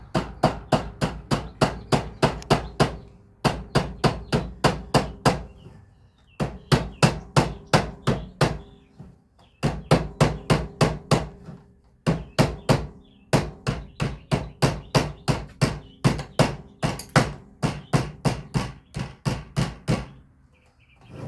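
A pin hammer strikes tin sheet in fast, ringing bursts of metallic taps, dozens of blows in steady runs separated by short pauses, loud and close with no talking.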